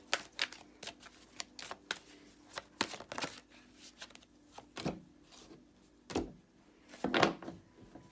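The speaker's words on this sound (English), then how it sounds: "all the cards are coming out" Oracle cards from a fairy-themed deck spill and slide out, giving a scattered run of soft, quiet papery flicks and taps with brief clustered rustles, close and with no talking.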